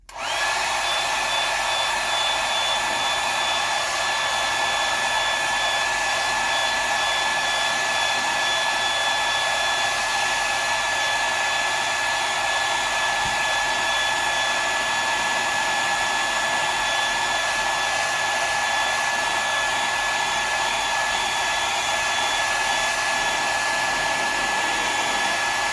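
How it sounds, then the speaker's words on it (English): A hairdryer blows steadily on wet paint, a loud, close, unbroken whirring hiss with a faint high whine that holds at constant pitch throughout. "I'll just dry that up a bit with the hairdryer."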